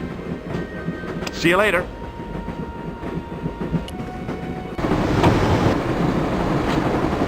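Train rolling along tracks in the video game Broken Sword, a steady rumbling rail noise with faint clatter that grows louder midway through, while voices talk over it.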